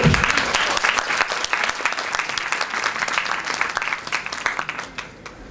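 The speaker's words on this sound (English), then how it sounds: "Can I hear a cheer?" Students at a college annual prize distribution ceremony break into sustained, dense applause with cheering, loud and close throughout, tapering slightly toward the end.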